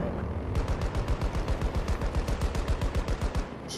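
Rapid automatic gunfire in the video game Battlefield 2042, a steady burst of evenly spaced shots rattling close and loud for several seconds with no talk.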